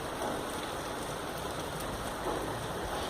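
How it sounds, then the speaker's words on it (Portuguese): Steady rain falls outdoors, a dense, even hiss of drops on surfaces wetting a camera tripod, close and continuous with no voices. "Tá chovendo e tá molhando o tripé"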